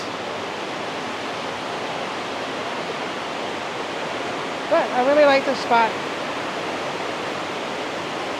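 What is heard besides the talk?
waterfall rushing under a lake dam bridge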